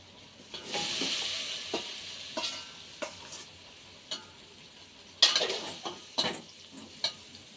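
Raw banana pieces drop into a hot pan and are stirred, giving a soft sizzle with several sharp scraping and clinking stirs spaced out, close and moderately loud, with no talk.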